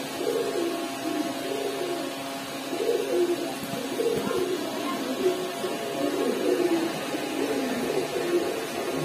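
Heavy Chila pigeons cooing steadily nearby, with repeated low throaty coos rising and falling over a constant background hum.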